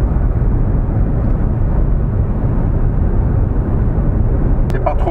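Steady broadband road and engine roar fills the cabin of a Jeep Renegade hybrid cruising on a motorway, a constant loud rumble with no breaks, while people talk inside the car.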